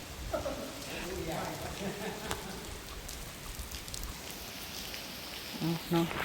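Rain falls steadily outdoors in rural Thailand, a dense continuous hiss throughout with a few faint voices and scattered small sounds over it.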